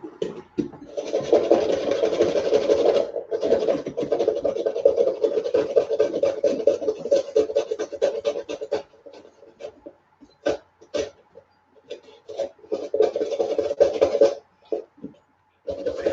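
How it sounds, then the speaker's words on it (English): A Mandalorian helmet carved from a pumpkin is smoothed with a rasping tool, giving close, continuous scraping and rubbing for several seconds that then breaks into short, scattered strokes. "Smoothing down my Mando helmet."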